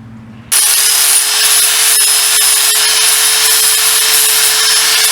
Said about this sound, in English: You could either use a file or a sanding disc and make it nice and neat on the bottom cut.